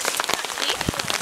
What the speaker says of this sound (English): it's freezing and it's raining